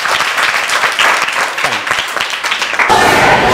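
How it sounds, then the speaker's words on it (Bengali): Applause from a group, a fairly loud run of clapping with uneven individual claps, shifting into a brighter noisier wash near the end. "সবাই জোরে একটা হাততালি দাও"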